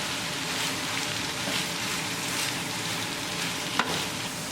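Chicken breast stirred in a pan over medium gas with cilantro just added, giving a steady broadband sizzle throughout with soft scraping of the stirring and one brief sharp clink near the end; no talking.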